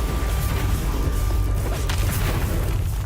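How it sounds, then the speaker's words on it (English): Video game trailer action: dense, continuous rumbling explosions and crashing impacts at steady high loudness, with deep low-end booms throughout and no speech. "And a lot of explosions."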